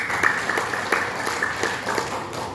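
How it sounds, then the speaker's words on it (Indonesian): Applause from an audience at a business seminar, a modest run of clapping with a few sharper claps standing out over a steady background hum. "Berikan tepuk tangan yang tulus buat upline saya tercinta, Field Master Dionysius Lawi."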